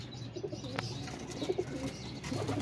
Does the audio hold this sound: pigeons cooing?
yes